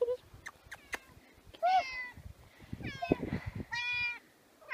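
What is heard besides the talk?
cat meowing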